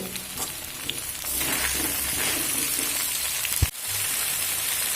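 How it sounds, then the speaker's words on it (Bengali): Cut vegetable stalks and ginger sauté in a pan for a vegetarian dish, giving a steady, close sizzle throughout with one brief stir clatter near the end. "দেখুন ডাটা দিয়ে আরও এক মিনিট মতো আমি কষিয়ে নিয়েছি"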